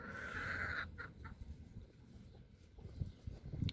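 Gauloise hens and a small rooster in their coop give faint, scattered clucks and short calls, soft and close with quiet gaps between the sounds.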